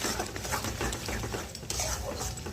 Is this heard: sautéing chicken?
yes